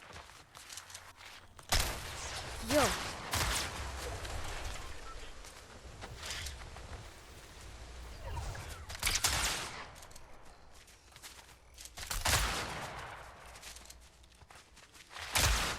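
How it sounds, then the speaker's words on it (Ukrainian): Bursts of rapid Fortnite gunfire break out in short volleys, with quiet stretches and footsteps between them; a voice briefly exclaims. "Хто в мене стріляє?"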